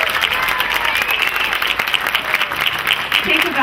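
Steady, dense audience applause fills the hall at the 2011 Duncan's Got Talent final, a continuous wash of many hands clapping close and loud throughout.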